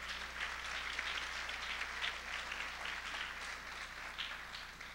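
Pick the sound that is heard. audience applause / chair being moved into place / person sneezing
audience applause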